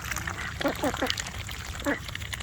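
Ducks in a wet farmyard with excess water from an open spigot give a few short quacks close by, with faint splashing and a speaking voice throughout.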